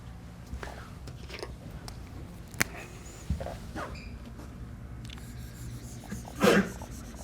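A single sharp sneeze bursts out near the end, following a stretch of quiet room noise with a few small clicks and soft movements.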